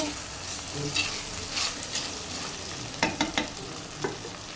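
Brinjal masala cooks in oil with no water added, giving a steady soft sizzle and frying hiss. A few sharp scraping taps of stirring come near the end.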